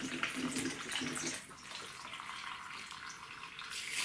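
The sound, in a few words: water flowing back through laser tube cooling line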